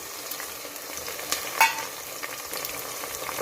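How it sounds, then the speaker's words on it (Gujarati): Tomatoes dropped into hot oil for Gujarati masala rice, giving a steady soft sizzle with a brief louder hiss and crackle burst midway, close and moderately quiet with no talking. "હવે આપણે અહીંયા આગળ ટામેટાં નાખી દઈશું"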